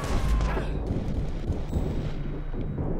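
Heavy gunfire in Watch Dogs rages continuously, a dense, loud, rumbling barrage of shots and blasts with no clear gaps, a voice faintly present beneath it.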